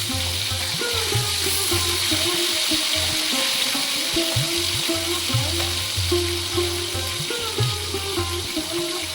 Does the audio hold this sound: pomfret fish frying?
yes